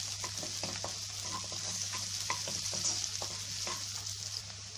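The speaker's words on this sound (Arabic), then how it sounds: "شوحت البصل اهو" Onions and bell peppers sauté in a pan for ground-meat zucchini, a steady close sizzle broken by the scrape and clatter of stirring, with a low hum beneath.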